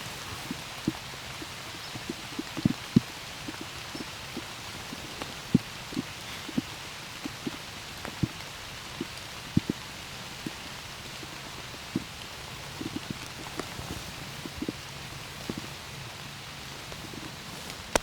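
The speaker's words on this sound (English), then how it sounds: "Well, it rains here." Light rain patters down on the tree canopy in the woods during an early-season morning hunt, a faint steady hiss with scattered louder drops striking leaves nearby.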